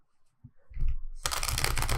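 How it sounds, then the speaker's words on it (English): Tarot cards shuffled by hand during a reading, beginning with a few soft handling taps and then a loud, dense riffling rush that fills the second half, close up and without speech. "let's do a quick shuffle for Cancer"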